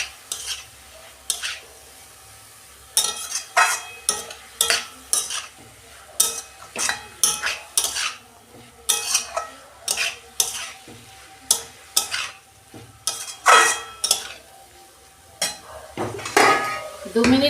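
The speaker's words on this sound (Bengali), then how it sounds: "দেখুন বন্ধুরা আমি পেঁপেটা একটু ভাজা ভাজা করে নেব।" Papaya fried and stirred in a pan, repeated close scrapes and clinks of a spatula against metal in an uneven rhythm over a soft background sizzle, with a short spoken phrase near the end.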